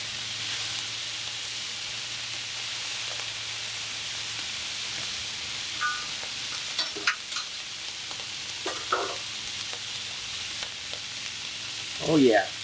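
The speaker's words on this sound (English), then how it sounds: "Oh yeah, just listen to that sizzle." Bacon sizzling on a hot Camp Chef griddle, a steady hissing crackle throughout with occasional louder pops and a brief clatter near the end, close by, with no talk.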